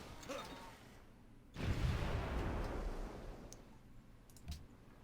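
A ranged naval attack firing on ships in Civilization V, one booming impact that rolls out into a decaying rumble with faint clicks before and after, no talk.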